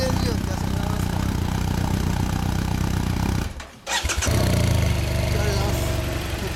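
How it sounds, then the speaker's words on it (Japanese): A 2016 Honda CRF1000L Africa Twin motorcycle engine runs at a steady, close idle, cuts out briefly for a moment, then fires up again and settles back into a strong rumble. "こちらエンジン音聞かせてもらえますか？"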